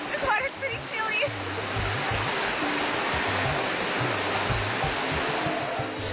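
A cold highland stream rushes steadily close by, a dense broadband wash of water with a person's voice talking faintly over it.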